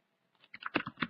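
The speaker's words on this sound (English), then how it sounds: "Let me go to the terminal. Let me type" A quick run of keystrokes on a computer keyboard as a terminal command is entered, a handful of close, light clicks in an uneven rhythm after a brief silence.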